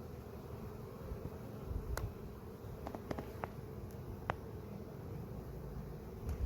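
Honeybees hum steadily inside an open beehive holding summer bees and brood frames, a low continuous drone with a few faint clicks and taps, moderately quiet with no talking.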